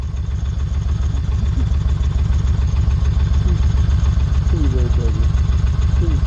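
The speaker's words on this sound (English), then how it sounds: "As soon as I started my engine" A car engine idles steadily after starting, a continuous low rumble that fills the whole stretch with a few faint higher tones on top.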